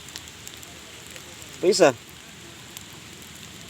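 Steady rain falling outdoors makes a soft, even patter throughout, and a voice briefly says a single word midway.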